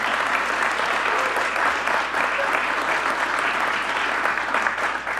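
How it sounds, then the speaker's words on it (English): Sustained, dense applause from a large audience at an economic growth announcement event at IonQ, University of Maryland, honoring mathematicians and physicists, steady and loud throughout without pause. "how about a round of applause for the mathematicians and the physicists?"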